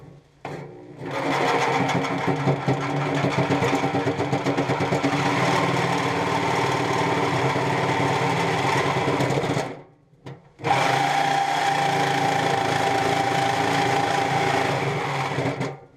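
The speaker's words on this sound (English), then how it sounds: "I'm just going to go ahead and cut this up here, and I'll end up putting a new muffler clamp on" A Sawzall reciprocating saw fitted with a Diablo blade cuts through a rusted muffler clamp, buzzing loud and close in a fast steady rattle, stopping briefly partway through before starting up again and running on, with no talk.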